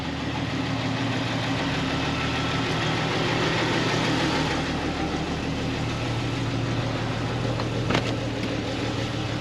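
1999 Jeep Wrangler engine idling just before a drive, a steady close rumble with a faint rhythmic knock and vibration that holds throughout, alone with no talk.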